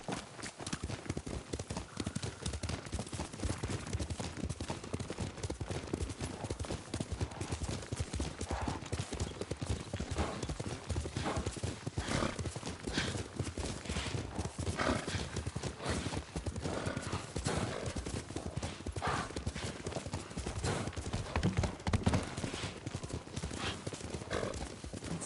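Horse hooves clip-clop in a steady, continuous rhythm for the whole stretch as horses are ridden in a PS4 video game, mixed with other game sounds at a fairly even loudness.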